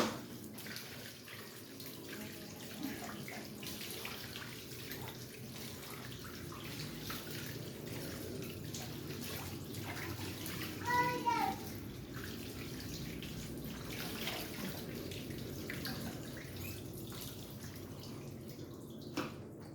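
Tap water running into a sink while sweet potato leaves are washed for cooking, a steady faint splashing trickle with occasional louder gurgles, no talking.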